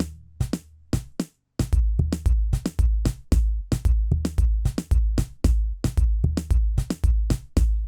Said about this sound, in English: All right, then we'll add our kick.